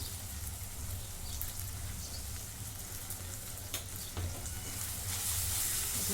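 Onion-garlic masala with coriander powder, garam masala and turmeric sautéing in a pan: a loud, dense, continuous sizzle heard up close, swelling slightly toward the end.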